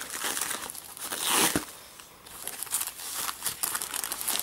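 Plastic wrapping crinkles and tears as a Das Keyboard Professional Model S mechanical keyboard with Cherry MX Blue switches is unboxed, close, irregular bursts of crackly rustling with a brief pause in the middle.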